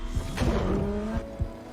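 McLaren 570LT engine and top-exit exhaust in Forza Horizon 4, revving and shifting over under two seconds with brief tyre squeal, loud and close.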